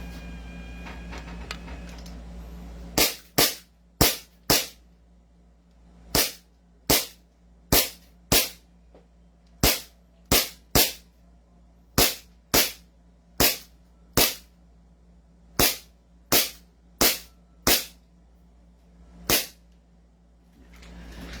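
A 450 FPS MK1 airsoft gun fires about twenty sharp, close cracks in an uneven rhythm, sometimes in quick pairs, over a quiet background.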